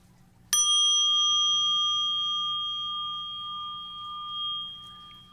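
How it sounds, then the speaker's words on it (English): A mindfulness bell at a Zen Buddhist talk is struck once and rings on with a clear, sustained metallic tone that slowly fades over several seconds, alone in a quiet room. "Mindfulness bell."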